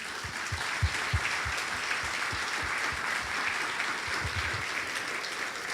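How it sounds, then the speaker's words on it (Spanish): A church congregation claps steadily for several seconds, a dense patter of many hands with no pauses, heard at a moderate distance in a large room. "¿Qué te parece si le damos un aplauso a Cristo?"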